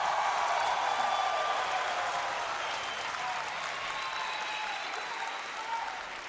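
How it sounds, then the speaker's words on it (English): Crowd at an esports match applauding and cheering steadily throughout, a dense wash of clapping that slowly tapers a little toward the end. "Folks in the crowd, give it up if you're a fan of OpTic Gaming."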